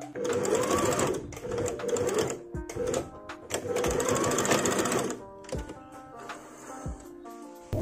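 A domestic sewing machine stitches the facing of a short-sleeved top in rapid, steady whirring runs that stop and start several times. Brief pauses and clicks fall between the runs.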